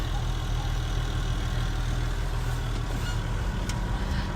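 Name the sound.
tractor engine idling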